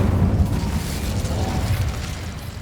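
A fire spell cast in Hogwarts Legacy gives a low, rumbling burst of flame that sustains as a dense roar and slowly fades, with no voices.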